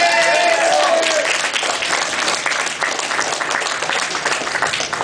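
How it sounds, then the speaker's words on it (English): Audience at a tattoo arts convention applauds the second-place overall female contestant, a dense, steady wash of many clapping hands close up, with a few voices cheering and calling out over it at the start. "Clap for April."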